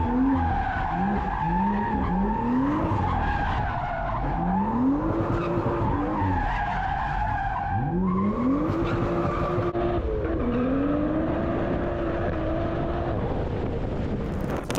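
A black BMW with no plates doing donuts around a parked police SUV on a street, its tires squealing and skidding in long repeated arcs over a steady engine roar, loud and close throughout.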